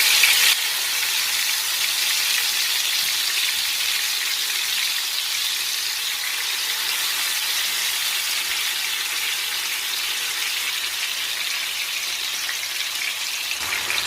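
Chicken tikka sticks frying in hot oil, a steady, dense sizzle and crackle that holds evenly and loud from start to finish, with no voices.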